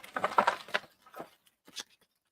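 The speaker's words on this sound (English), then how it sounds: "Knocked over the clearance box." A clearance box of Lego pieces gets knocked over, spilling with a short clatter of small plastic bits followed by a few scattered, lighter ticks as pieces settle, fairly close and moderately loud.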